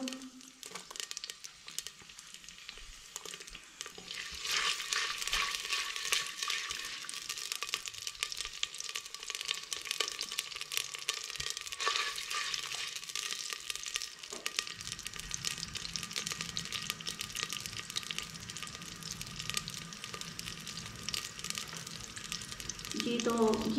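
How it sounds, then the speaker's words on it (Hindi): Chopped onion sizzles in 200 grams of hot oil for a winter cauliflower dish, a continuous crackling hiss that grows louder and denser after being added, with occasional stirring and a brief clatter near the end. "मैंने इसके अंदर ऑयल डाला था 200 ग्राम। तो उसके अंदर मैं ये एक प्याज कटी हुई डाल देती हूँ।"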